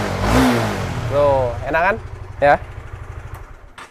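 A motorcycle at a used bike dealer in Lumajang revs briefly, then settles into a steady pulsing idle, under and after short bursts of casual conversation.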